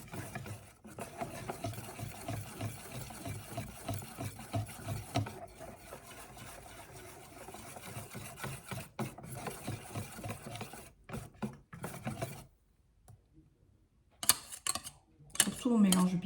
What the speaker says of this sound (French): Surtout on mélange bien.